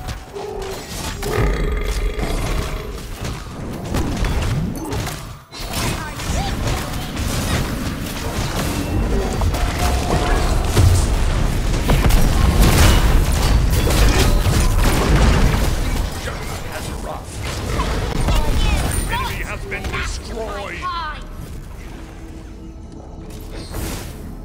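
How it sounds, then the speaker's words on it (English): Explosions and crashing booms ring out in a King Arthur siege video game, dense and loud throughout over clanking mechanisms and grunting combat noise, with a brief drop in level near the five-second mark. "Time to explode!"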